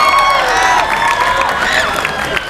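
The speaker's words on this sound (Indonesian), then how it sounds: "Woi, tepuk tangan dulu." A school audience at a public speaking session responds loudly and close by, with cheering voices and shouts over a dense wash of crowd noise lasting the whole stretch.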